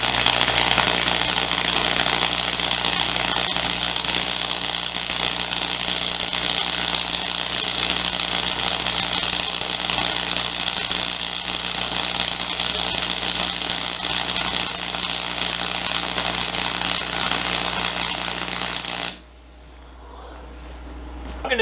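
Flux-cored welding with a Chicago Electric 125 wire welder, a loud, steady crackling buzz running continuously for about nineteen seconds, then cutting off abruptly into near quiet.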